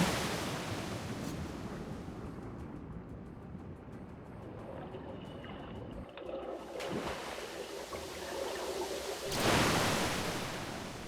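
Rushing river water in the video game Metro: Last Light Redux, a dense, steady roar of flowing water with a brief swell near the end.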